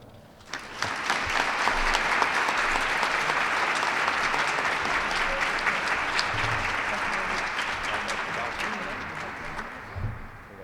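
An audience at a teacher awards ceremony applauds the honored teachers, the clapping rising quickly into a sustained, dense ovation that gradually fades toward the end, with a few brief voices mixed in.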